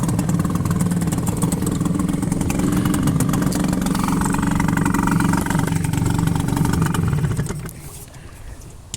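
A 1984 Mariner 4hp outboard motor idles with a steady, buzzy putter, loud and close, for several seconds before cutting out near the end.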